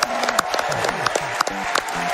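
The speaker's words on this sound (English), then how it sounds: "One more round of applause for the winning team there." A crowd at Summer Games Done Quick 2023 applauds the winning team of a Super Mario Maker 2 relay race, steady clapping mixed with light cheering and tonal music underneath.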